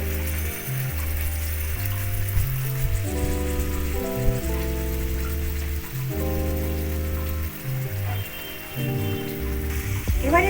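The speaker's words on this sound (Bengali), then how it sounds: "জলটা ফুটে উঠেছে, এর মধ্যে আমি মাছ ভাজাগুলো দিয়ে দিলাম।" Pieces of fried katla fish drop into a pan of boiling water, with a steady bubbling, sizzling hiss under continuous background music.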